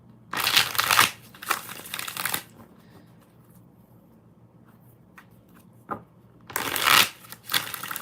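Tarot cards are shuffled close up in quick riffling bursts, two at the start and one near the end, with quiet rustling between.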